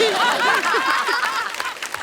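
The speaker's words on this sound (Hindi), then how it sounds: "पहले टीम के लिए जोरदार ताली" Brief burst of studio audience applause on The Kapil Sharma Show, loud at first and tapering off within two seconds, with chuckles and voices mixed in.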